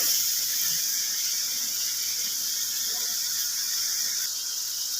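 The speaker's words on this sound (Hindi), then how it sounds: "सफ़ेद चने डाल के इसे 2 से 3 मिनट में इसकी भुनाई करूंगी" White chickpeas roast with spices in a pot over a medium flame for a chana pulao, giving a steady, even sizzling hiss that holds at one level throughout with no voices.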